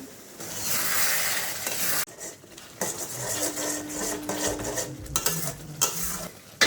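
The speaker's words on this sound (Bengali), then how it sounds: "মশলার সাথে চিকেন খুব ভালো মতো কষানো হয়ে গেছে" Chicken is stirred and sautéed with spices in a pan for Bengali chicken bharta, producing close, repeated scraping strokes over a sizzle, with short pauses between bursts.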